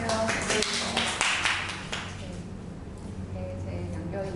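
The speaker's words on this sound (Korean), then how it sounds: "박수 한번 할까요?" An audience at a humanities and social science seminar on game thinking claps to welcome the guest speaker, a burst of scattered clapping that thins out and fades. Background voices murmur underneath.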